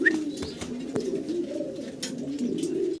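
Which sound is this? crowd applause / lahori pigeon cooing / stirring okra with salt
lahori pigeon cooing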